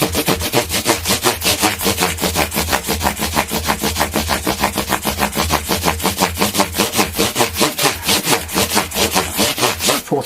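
A Les Paul guitar finish is wet-sanded by hand with fine abrasive papers, giving a steady, rapid back-and-forth scrubbing rasp that stays close and loud throughout with no voices.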